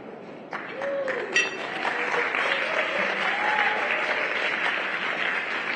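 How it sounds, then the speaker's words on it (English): Audience applause following a poem reading at a civil rights roundtable, steady dense clapping throughout with voices audible over it. "I appreciate those claps though"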